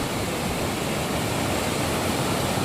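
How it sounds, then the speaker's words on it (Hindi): Rain-swollen waterfall pouring off the Sahastradhara hillside in Uttarakhand, a thick, constant roar of rushing water heard up close and alone for a few seconds. "पहाड़ियों से ये झरना बहुत ही बारिश के दिन में ये इसलिए बहुत तेज पानी आ रहा है इधर।"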